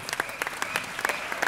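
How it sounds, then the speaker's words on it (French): An audience applauds at the Gérardmer festival's 2016 opening ceremony: steady, fairly quiet clapping from a crowd, with individual claps popping out at intervals throughout. "merci de l'applaudir"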